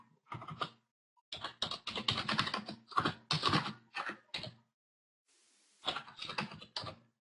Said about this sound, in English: I'm just typing the formula of the sine law